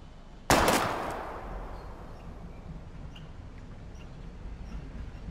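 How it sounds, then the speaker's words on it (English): A single sharp gunshot rings out in the Life is Strange video game during bottle target shooting, a loud close crack with a long decaying echo, followed by quiet ambient background. "We're gonna shoot all these bottles without wasting a single bullet."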